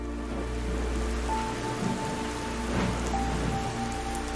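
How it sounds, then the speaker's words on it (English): Heavy rain pours in a steady, dense hiss with pattering drops on a surface, continuous and even throughout, used as a background sound effect. "It can be heavy rain,"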